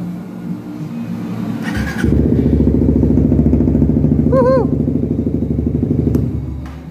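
A Suzuki GSX-R150 motorcycle engine, repaired after a total failure, cranks, catches and settles into a steady, rumbling idle close by, with a brief squeaky chirp partway through.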